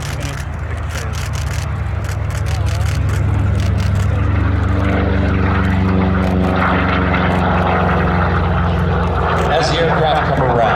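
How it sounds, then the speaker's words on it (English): A P-47 Thunderbolt warbird with its big radial piston engine roars past at the 2022 Abbotsford Airshow, a loud, sustained propeller drone with shifting pitch as it flies by, an announcer talking over it. "And here's the P-47 Thunderbolt."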